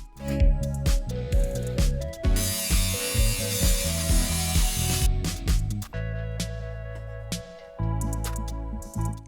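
A Dremel rotary tool cuts a plastic mount for a preheating plate fan, its high whine surging in loud bursts with grinding, clattering mechanical texture and brief pauses between passes.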